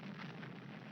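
Cartoon explosion in an Underdog episode: a dense, loud, steady rumbling roar of broadband noise filling the whole moment, with no talk.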